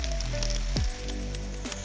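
Onions, tomato, garlic and ginger sizzle steadily in a pan over lowered heat, a close, continuous frying hiss with a low hum beneath and a brief clatter near the middle.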